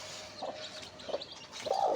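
Aseel chicks peeping, with a few short, high chirps standing out against a soft background and the loudest bursts near the end, fairly quiet overall.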